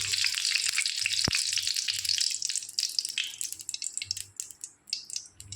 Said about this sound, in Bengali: তেল দিয়ে উচ্ছেটাকে ভেজে নেব।